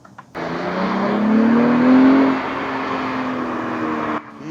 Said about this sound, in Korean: 그리고 이 배기음이 되게 듣기가 좋은데, 아마 이게 마이크에 잡힐지 모르겠습니다.